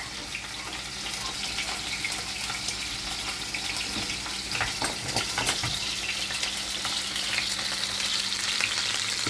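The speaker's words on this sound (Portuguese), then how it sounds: "Fritando aqui os nossos medalhões de mignon." Beef filet mignon medallions sizzling and crackling in a hot pan, a dense steady spatter with occasional sharper pops, close and fairly quiet, no voices.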